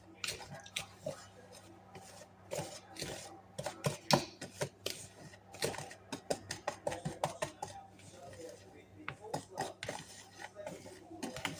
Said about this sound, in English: we're going to mix that all together with my whisk